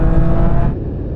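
A classic BMW M2 and a new BMW M240 accelerate hard off the line in a half-mile drag race, with a loud, close engine roar that eases slightly partway through.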